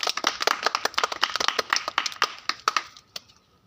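Children clap their hands during a reflex game, making a fast, irregular string of sharp, close claps that thins out toward the end.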